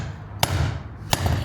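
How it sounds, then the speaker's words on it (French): A hammer strikes the mortar joint between two bricks twice, each a sharp, loud crack about 0.7 seconds apart over a steady low background hum. "on met le marteau entre le joint de briques et entre les deux briques"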